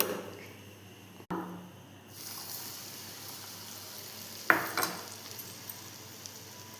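Garlic and chili powder being stirred into hot sesame oil off the heat, a soft fading sizzle with a few light spoon clinks against the pan; quiet and close, no talking.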